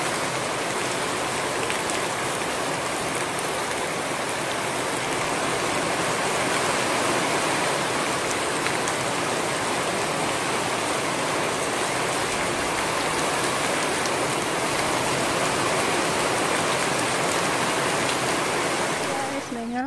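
Steady heavy rain falling on a rice field during a typhoon, a dense continuous hiss of drops at an even level throughout, with a voice briefly heard near the end.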